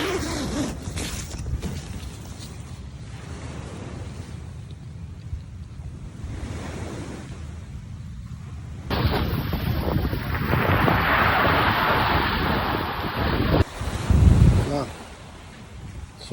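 Waves wash onto a beach in Bicol under strong gusting wind, with roaring surf and heavy wind buffeting the microphone. Voices talk over parts of it.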